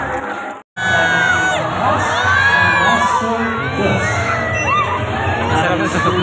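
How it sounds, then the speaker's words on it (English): A lively crowd at a bird show in an ocean park cheers and shouts, with high whoops and children's voices over a continuous roar after a brief silence at the start. "A round of applause for our math wizard Snow."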